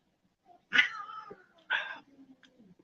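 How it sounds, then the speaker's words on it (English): Two domestic cats hiss and yowl at each other in a short indoor squabble, two loud caterwauling bursts separated by a pause, then fading low growls. "Cats are upset with each other, but you know that happens."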